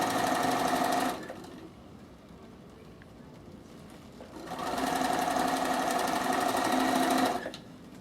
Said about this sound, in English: Okay, so we're just stitching all the way down.